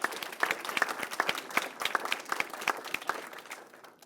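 An audience at a school awards program for young students gives a round of applause, moderately loud, with quick overlapping claps that hold steady and then taper off at the end.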